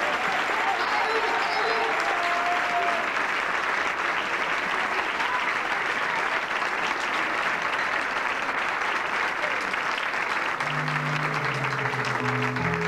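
Loud, sustained applause from a church congregation in Managua, Nicaragua fills the whole stretch, steady and dense, with a few faint voices and some low tones coming through near the end.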